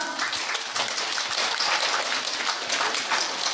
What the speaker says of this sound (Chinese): 没有唱，已经拍手了。